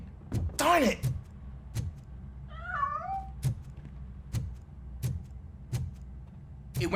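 A cat in the Robocop: Rogue City video game gives a short rising-falling meow partway through, set against a steady low hum with a few sharp knocks and a brief burst of louder noise near the start.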